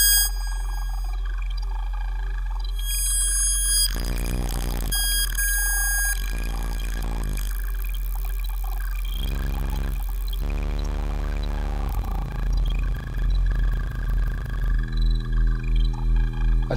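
Low droning hum from feedback in the NoInputMixer iOS app, steady and sustained beneath shifting tonal bleeps, sweeps and rising harmonic glides, with reverb on it and pulsing swells near the end.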